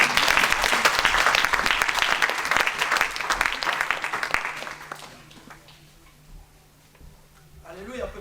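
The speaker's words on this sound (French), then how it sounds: "On acclame le Seigneur." A church congregation applauds loudly and steadily for several seconds to acclaim the Lord, then the clapping fades away while a voice speaks over quieter room noise.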